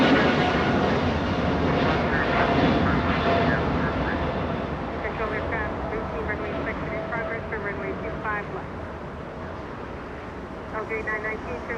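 A China Cargo Boeing 777 freighter, twelve years old, at Los Angeles International Airport, its jet engines producing a loud, steady broadband roar that fades slightly, with faint radio chatter mixed in.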